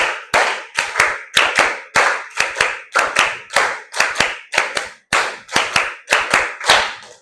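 A single person claps hands in sharp, loud, close slaps, grouped in short counted bursts such as two plus two plus one for five, with brief pauses between groups and no talking.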